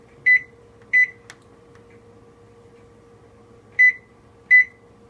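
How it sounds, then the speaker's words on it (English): A digital kitchen timer being set for 60 minutes gives four short, sharp electronic beeps in two pairs, with a faint click between them over quiet room hum. "let's set this timer for 60 minutes"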